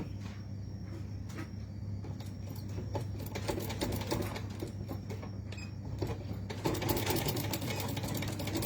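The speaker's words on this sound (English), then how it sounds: "I'm just going to start sewing this here" A sewing machine stitching binding onto a quilt, a continuous fast mechanical whir with rapid needle ticking that grows a little louder toward the end, close and steady with no talking.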